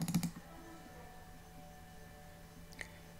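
Quick mouse double-click on an After Effects preset at a computer, a short burst of sharp close clicks followed by a faint hum and one more small click, no talking.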